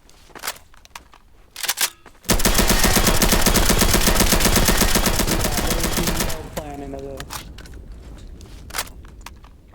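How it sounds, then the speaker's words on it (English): Sustained heavy automatic gunfire from a video game erupts after scattered shots, a loud dense burst lasting about four seconds before dropping to lighter firing and effects. "We're taking heavy fire."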